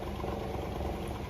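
Nissan SR20DET engine in a Maxima running just after a push start, a steady mid-pitched idle with a rough, slightly knocking vibration, heard close and continuous with faint wind in the background.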